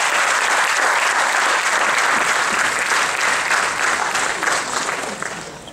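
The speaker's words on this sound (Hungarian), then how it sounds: "azt gondolom, hogy ők is megérdemelnek egy tapsot." Sustained audience applause after a children's folk dance group's performance at a children's folk dance festival, a dense, steady clapping from a large crowd that fades slightly toward the end.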